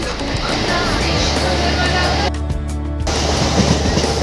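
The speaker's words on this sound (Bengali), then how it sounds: "ট্রেন ছেড়ে দিল।" Steady rumbling roar of a moving train heard from a window seat inside a carriage near Chandannagar, continuous and loud, with a faint rhythmic rattle underneath.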